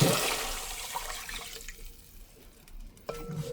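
Hot water poured into a pot of spicy chicken gizzard curry, a loud rushing splash that fades over about two seconds into quieter bubbling, ending with a faint clink.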